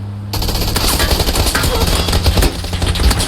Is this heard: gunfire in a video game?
yes